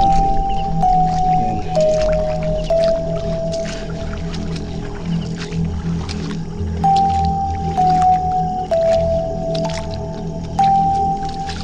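Footsteps squelch through wet mud in a passage just after a stretch of water, a series of loud, close squishing steps with an odd tonal whine running underneath.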